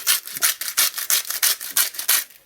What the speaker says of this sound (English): quick grind of salt